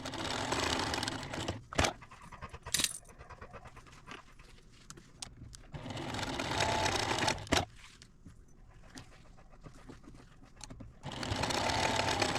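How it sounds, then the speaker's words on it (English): Close-up sewing machine stitching a Christmas table runner, running in three steady buzzing bursts separated by quieter pauses with a few sharp clicks and clunks from the machine. "So join me at the sewing machine."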